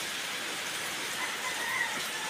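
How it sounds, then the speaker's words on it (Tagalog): Steady rain falls as an even, soft hiss, continuous and fairly distant, with no voices. "Baka biglang tumigil yung ulan"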